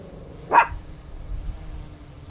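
A dog gives a single sharp bark from a short distance outdoors at a holiday caravan park in Cornwall, followed by quiet ambient rumble.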